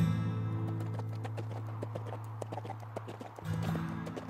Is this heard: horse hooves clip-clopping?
yes